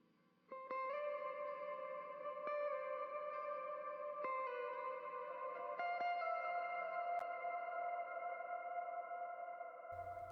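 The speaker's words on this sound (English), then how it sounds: "that reverb goes on forever" Layered sustained vocal harmonies wash together under a long, lingering reverb, sounding distant and spacious, with soft plucked attacks entering before the tones swell and hang.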